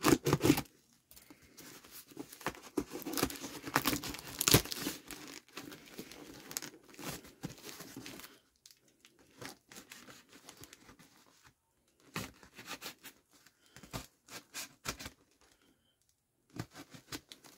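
Plastic and cardboard packaging of a silicone doll box crinkles, tears and rustles in irregular bursts as it is cut and pulled open with scissors, close up, with quiet pauses between.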